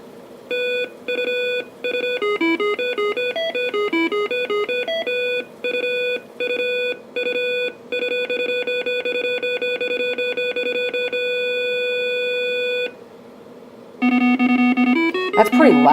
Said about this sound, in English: let the computer play the William Tell Overture